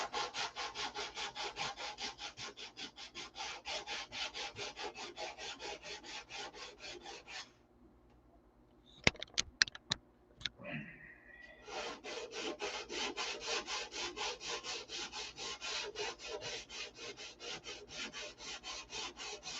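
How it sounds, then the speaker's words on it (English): Rapid rhythmic scraping of 320-grit sandpaper on wood, steady back-and-forth strokes, with a short pause and a few clicks midway before sanding resumes. "So this sanding tonight is with 320"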